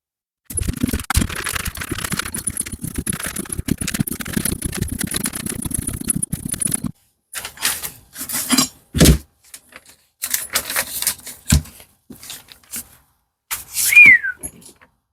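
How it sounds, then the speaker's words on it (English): Hand crank being turned to retract a tractor's hydraulic top link, a long run of steady close ratcheting and squeaking for about seven seconds, then scattered shorter bursts of cranking and clicks with a brief squeak near the end, no talk. "That's a lot of cranking."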